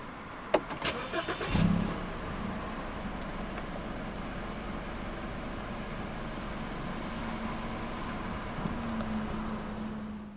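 A 2015 BMW Z4 sDrive20i roadster is started with its push button. Clicks and a short starter whir flare into a loud catch, then the engine settles into a steady, even idle with a slight rise near the end.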